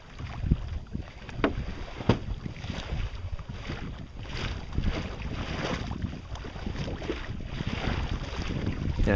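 A sailboat running downwind on a starboard tack: continuous rushing of wind and water past the hull, with gusty wind buffeting the microphone that builds toward the end.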